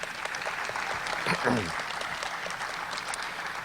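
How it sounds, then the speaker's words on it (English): Applause for Congressman Rogers at a scholars program graduation, a steady, fairly quiet spread of clapping from the crowd, with a brief voice or cheer rising above it midway. "Please give him a huge round of applause."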